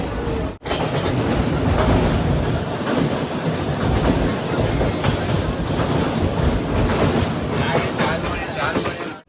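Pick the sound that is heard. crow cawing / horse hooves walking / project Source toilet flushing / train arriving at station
train arriving at station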